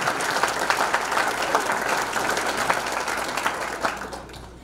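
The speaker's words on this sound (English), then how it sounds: "give yourselves a great round of applause" An audience at the governor's State of the State address in Lake Havasu City bursts into loud, dense applause, a sustained wash of many hands clapping at once.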